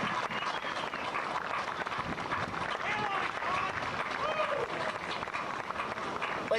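A crowd applauds steadily throughout at an outdoor marijuana march rally in Cincinnati, Ohio, a dense wash of clapping with some voices mixed in.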